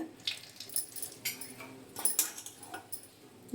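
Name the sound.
water being squeezed out of boiled soya chunks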